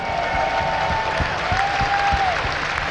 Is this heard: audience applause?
yes